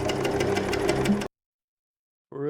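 A sewing machine runs steadily with a rapid mechanical chatter for just over a second, cuts off into silence, then briefly starts up again at the end.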